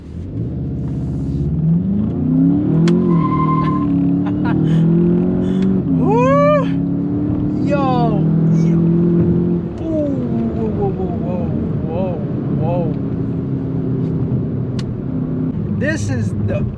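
A 2021 Volkswagen Jetta GLI accelerates on a test drive, its engine note climbing steadily in pitch and then dropping back to a steady cruising drone, with a voice heard over it.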